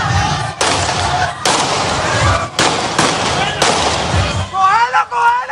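Gunfire in a street shootout between police and criminals in Cali, a dense run of loud, sharp reports and crackling bursts across a busy outdoor scene, closing with a rising siren-like whine.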